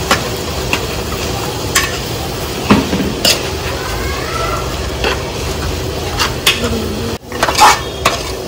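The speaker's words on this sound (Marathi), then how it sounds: "आपण याच्यामध्ये मॅगी टाकून घेऊ. आणि मस्तपैकी मिक्स करून घेऊ." Maggi noodles stirred in a hot pan with masala, loud close scraping and clattering of a spoon against the pan over a constant frying sizzle, with sharp knocks scattered throughout.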